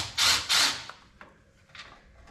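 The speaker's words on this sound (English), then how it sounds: "These two screws come out pretty quickly." Two screws backed out of the license plate bracket on a Harley-Davidson Road Glide, heard as two quick bursts of close, loud power-driver whirring, followed by fainter ratcheting clicks and handling noise.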